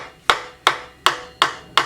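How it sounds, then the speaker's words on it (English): Five sharp, evenly spaced hammer taps punching through vinyl on a Valiant VH Charger seat cushion during a retrim, each a crisp close knock with a short decay and no talk. "we'll just simply grab a hammer and just tap on"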